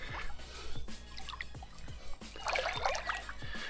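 Water trickles and splashes as fish oil is rinsed off someone's hands during oyster harvesting in New Zealand, close-up dribbling with small splashes and a brief fuller burst of pouring.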